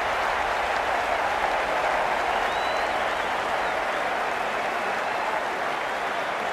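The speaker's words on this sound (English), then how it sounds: "It's going to be hard for the bowler to focus with the crowd this excited." A packed stadium crowd at a South Africa versus Australia cricket World Cup match in 2023 roars and applauds after a boundary four, producing a dense, loud, sustained wash of cheering with a faint whistle rising briefly.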